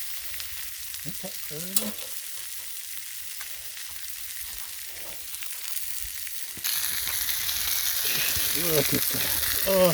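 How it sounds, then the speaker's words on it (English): Tri tip steak sears on a Blackstone griddle with a soft, steady sizzle, brief scraping and turning sounds, and a louder hiss of frying late on, under a few short spoken comments. "Trying to get the char all the way around. That sear that we love."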